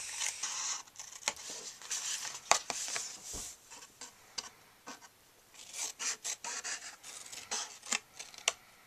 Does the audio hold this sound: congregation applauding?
no